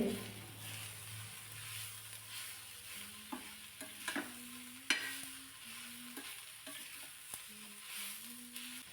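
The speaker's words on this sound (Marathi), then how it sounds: "पांढरे तीळ नक्की घालायचे म्हणजे खूप भारी चव लागते व्यवस्थित चांगले हे भाजून घ्यायचे" White sesame seeds for green tomato thecha roast in a pan with a steady soft sizzle, broken by repeated scraping stirs and a few sharp clicks of the spoon against the pan, close by, with no talking.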